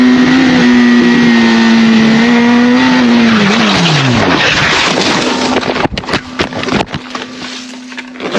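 A motorcycle engine howls loudly under heavy throttle in a turn, then its pitch sinks away into rough scraping, tumbling and skidding noise as the bike crashes, ending in scattered knocks and a faint idle.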